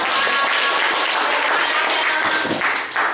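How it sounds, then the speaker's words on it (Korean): A crowd at a senior welfare center concert event applauds to welcome the director, loud, close, sustained clapping that fills the moment and tapers slightly near the end. "박수로 맞이해주시기 바랍니다"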